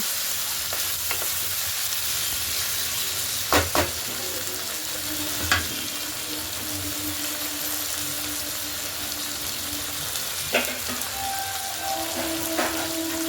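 Tangra fish and potato pieces frying in a pan, with a steady hissing sizzle like light rain throughout and a few sharp scrapes and taps of a spatula, close up and with no one speaking.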